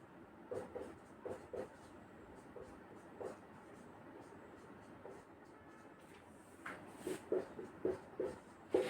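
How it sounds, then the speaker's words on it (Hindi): A teacher writes by hand on a board during an immunology lesson on cytokines, with scattered scratchy strokes and taps, quiet and intermittent, growing busier toward the end; faint speech-like sounds occur in the background. "तो मैं लिखती जाती हूँ।"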